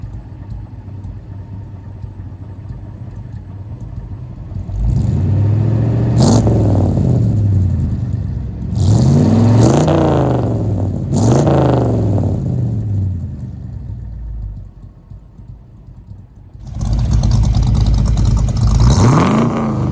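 A Ford engine fitted with Patriot mid-length headers idles with a low rumble, then revs in three sharp bursts that rise and fall, settles back, and climbs into a final sustained rev, loud and close with no talking.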